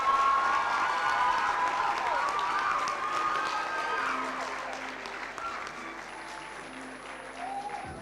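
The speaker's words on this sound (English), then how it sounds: "We must give a clap to these people." A graduation ceremony crowd applauds loudly and continuously, dense clapping with some cheering and voices mixed in, slowly easing in volume toward the end.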